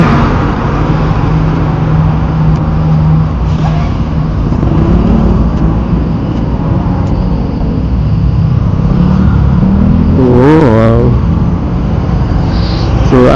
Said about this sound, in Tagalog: traffic. Only traffic in the Philippines.